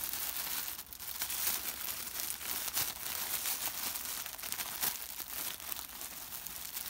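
A loaf of bread is tugged out of its tight plastic bag, giving steady close crinkling and rustling of plastic throughout, with a few sharper crackles along the way.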